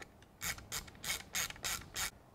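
A ratchet tightening Torx screws on a Porsche chrono pod, six evenly spaced clicking bursts close up, with no talking.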